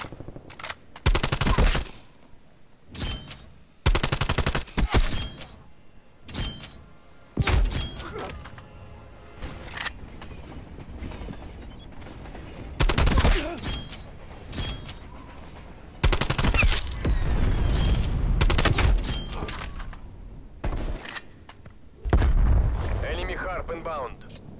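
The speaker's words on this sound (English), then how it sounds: "Hostile sentry turret active." Hostile sentry turret firing in a video game, heard as repeated loud bursts of gunfire separated by short gaps, with rumbling blasts and background game noise between them.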